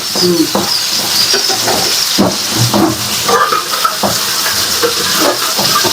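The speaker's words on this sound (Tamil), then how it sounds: "உங்களுக்கு எந்த அளவுக்கு தண்ணி வேணுமோ அந்த அளவுக்கு தண்ணி ஊற்றிட்டு நல்லா கொதிக்க வச்சுருங்க" Water poured into a hot pan of chicken curry (kuzhambu) bursts into loud, continuous steam hissing and sizzling, heard up close, with rough bubbling surges throughout.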